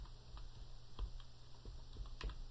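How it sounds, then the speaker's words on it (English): Quiet, sparse keystrokes tapped out on a computer keyboard, a few irregular clicks spread over a steady background hum with no talking. "I'm going to type in keyboard."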